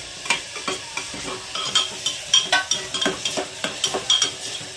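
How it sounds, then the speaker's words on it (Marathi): Potato curry with onions and tomatoes is stirred in a sizzling pan, a rhythmic run of scraping spoon strokes and clinks over a steady frying hiss, close and moderately loud. "थोडंसं मस्त सगळे शिजून करून घ्यायचं थोडंसं 5 मिनटं व्यवस्थित हलवून घ्यायचं बघा."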